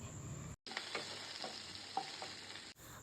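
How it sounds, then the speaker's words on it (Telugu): Onion and capsicum fry in a pan for capsicum masala curry, giving a steady sizzle with a few soft stirring scrapes, interrupted by two brief dropouts to silence, no voices. "ఆనియన్ అలానే క్యాప్సికమ్ వేసి వేయించండి"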